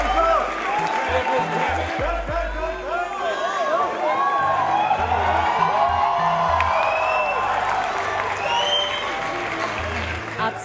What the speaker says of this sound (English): Ladies and gentlemen, please help me welcome, with a round of applause, Mr. Manish Tiwari